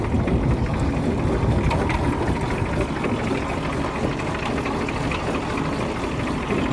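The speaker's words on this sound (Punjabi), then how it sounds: "ਕਿੰਨੀ ਮਿੱਠੀ ਮਿੱਠੀ ਬਾਜ ਤੇ ਚੱਲਦਾ ਟਰੈਕਟਰ" A tractor engine runs at a steady idle on a farm, giving a constant low rumbling drone with a slight knock and no speech.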